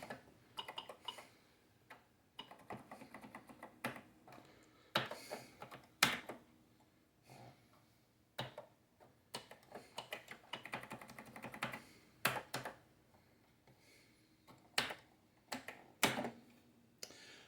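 Keys clatter on an Atari 8-bit computer keyboard in irregular bursts of quiet, close clicks and taps, with short pauses between runs of typing and no voices.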